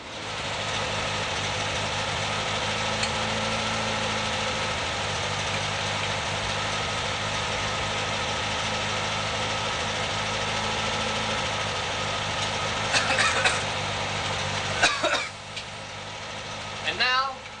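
A Volkswagen Beetle engine idles steadily with a smooth, even hum that continues throughout, with occasional voices talking over it near the end.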